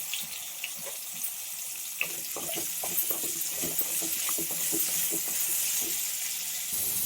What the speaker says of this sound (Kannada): ಹಾಕಿ ಸ್ವಲ್ಪ ಎಣ್ಣೆ ಫ್ರೈ ಮಾಡಬೇಕು.